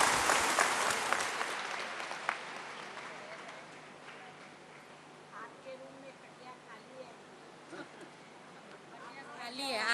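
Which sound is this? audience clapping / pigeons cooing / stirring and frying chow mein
audience clapping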